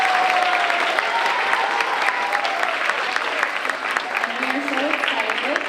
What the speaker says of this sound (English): can we please have a great one more round of applause for the orchestra?